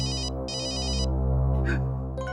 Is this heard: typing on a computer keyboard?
no